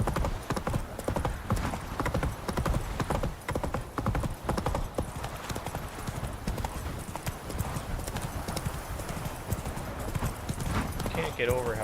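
Horse hooves clip-clop steadily in The Witcher 3 as Roach trots along, a continuous loud rhythmic beat with a brief whinny and a voice speaking over it.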